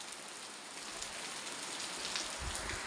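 Steady rain falls and patters on surfaces in a continuous, even wash of drops. It sounds moderately close and carries on throughout with no voices.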